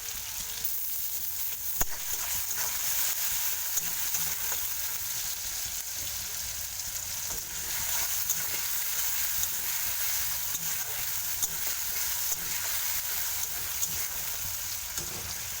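Continuous crackling sizzle of garlic and onion frying in oil, heard up close, with a few soft stirring clicks and no talking.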